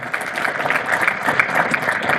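Audience applause for university sport Hall of Fame inductees and outstanding alumni at an induction ceremony, a steady dense clapping that holds for a couple of seconds.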